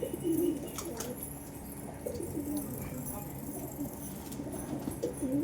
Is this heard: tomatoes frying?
no